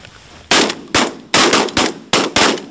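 Shotgun blasts during duck and goose hunting in heavy rain in Michigan, five or six sharp, loud shots fired in quick succession from close by.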